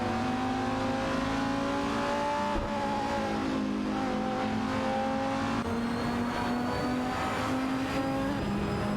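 Racing-game cars, including a Lamborghini Gallardo GT3 and an Ascari KZ1, drone loudly with engines at steady high revs that rise and shift continuously, overlapping with no talk.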